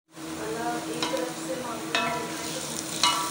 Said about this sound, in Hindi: अब मैं इसको मुसलसल चमचा चलाती रहूँगी ताकि ये एक जैसी दोनों तरफ से अच्छी तरह से गोल्डन ब्राउन प्याज हो जाए